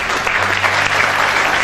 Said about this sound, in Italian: quindi un altro grandissimo applauso